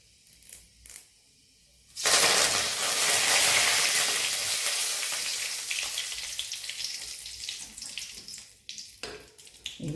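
Curry leaves dropped into hot oil with fenugreek seeds for a South Indian rasam tempering burst into a loud, close sizzle after a quiet moment, then the crackle slowly fades and thins over several seconds.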